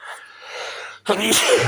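A single loud sneeze bursts out abruptly after a soft, breathy intake, sharp and close.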